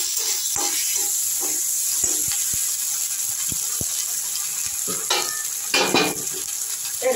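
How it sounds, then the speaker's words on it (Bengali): Pointed gourd fries in a pan with ginger garlic paste in village style, a steady soft sizzle broken by sharp clicks and spatula scrapes, with bursts of louder crackling near the end and no speech. "সব কিছু দিয়ে এগুলো আমি ঢেকে ঢেকে ভেজে নিব।"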